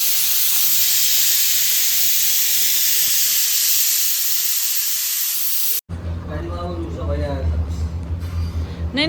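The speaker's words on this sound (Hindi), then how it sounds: "कुकर में सीटी पे सीटी आ रही है" A pressure cooker whistle releases steam in a continuous loud hiss for about six seconds, then cuts off abruptly. Household noise and voices take over after it stops.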